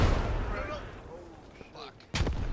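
Grenade explosion in the video game Squad, a sudden sharp blast near the end after a stretch of quieter battlefield noise and distant gunfire.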